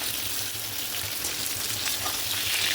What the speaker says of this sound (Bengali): এবার এটা একটু লাল করে ভেজে নেবো পটলটা আর আলুটা।